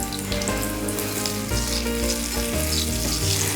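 Pakoras for Punjabi kadhi fry in hot oil over a medium flame, a steady close sizzle with crackling bubbles and faint stirring clinks, no voices.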